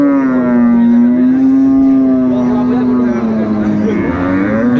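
A dairy cow at Ambari cattle market in Dinajpur gives a long, loud, sustained moo close by that carries through the whole stretch, with market bustle and faint voices underneath.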